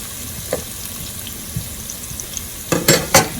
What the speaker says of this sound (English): Let's let it simmer a little bit